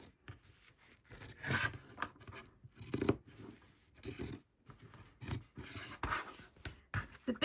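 Scissors cutting fabric scraps into squares for small doll's house cushions, a close, quiet series of irregular snipping and rustling strokes with no talking.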